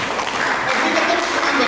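A church congregation applauds during a sermon, steady dense clapping filling the room at moderate loudness, with voices murmuring underneath.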